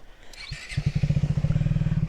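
A motorcycle idles close by with a steady, throbbing engine pulse as it is brought to a stop and parked outside a temple, loud and alone with no talk over it.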